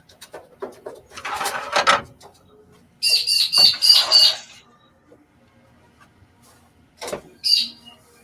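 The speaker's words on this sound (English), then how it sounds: "Bloody squawker bird." Harsh squawking bird calls burst out in a quick run of several shrill cries, close by, after some earlier clattering knocks and rustles.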